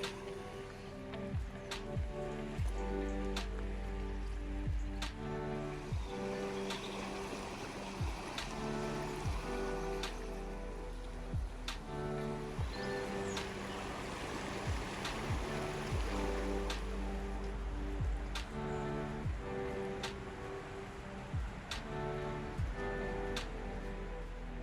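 Heavy rain falls in a steady downpour during a trek near village houses, with a continuous wash of noise and scattered drips and patters close by, with no voices.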